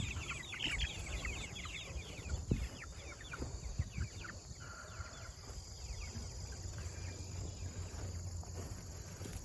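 Several chickens cluck softly nearby in a chicken tractor on a Kentucky property, amid low outdoor background noise, with no one speaking.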